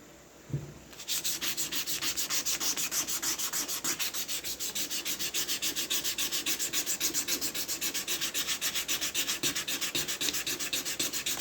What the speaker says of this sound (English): Alright, so now we just do the sanding.